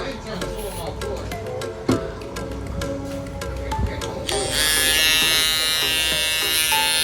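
An electric shaver with a freshly changed blade switches on after clicks and handling, then runs with a loud, steady high-pitched buzz close by.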